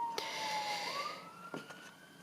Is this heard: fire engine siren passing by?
yes